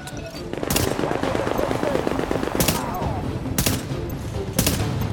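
Rapid automatic gunfire from an enemy turret in the video game The Division, several bursts over continuous game noise and music, with players talking over it.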